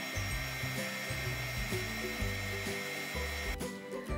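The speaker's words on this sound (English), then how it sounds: "we're going to soften the plastic with a heat gun, spread the wings wider" A heat gun blows continuously as it softens the plastic wings of a custom My Little Pony figure. The steady whirring rush plays under background music.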